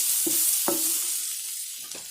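Spinach being stirred in a pan for vegetable stuffed portabella mushrooms, with a few short scraping strokes over a steady faint sizzle, close and alone.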